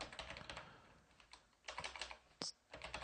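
Clicky computer keyboard typing while code is entered, quick bursts of keystrokes with short pauses and one sharper key clack, close and fairly quiet with no talking.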